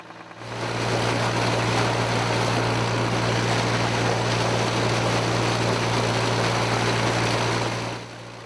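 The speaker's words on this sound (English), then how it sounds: "They run another well with a diesel engine." A diesel engine powers a water well pump at a farm, giving a loud, steady drone with a strong low hum that holds evenly throughout after a brief quiet start and stops near the end.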